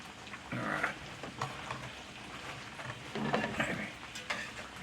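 Fried potatoes and onions being stirred in a pan, a soft sizzle broken by scraping and clattering strokes of the utensil, close and fairly quiet with no talk.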